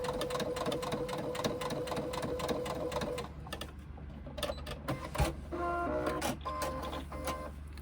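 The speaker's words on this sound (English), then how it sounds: "top stitching a 1/8 inch seam across the top of the folds 2, 4 and 6" A sewing machine top stitches a 1/8 inch seam across the tops of folds on a sling, running in a steady fast rhythmic whir, then slowing into shorter stop-start bursts with a few clicks.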